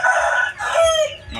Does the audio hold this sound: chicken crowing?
yes